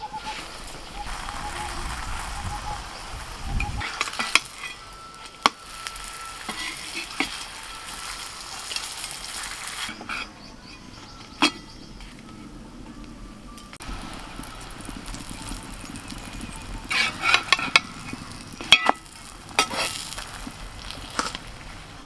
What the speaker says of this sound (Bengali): তেল গরম হয়ে গেছে, এবার পরোটাটা আস্তে করে দিয়ে দেবো।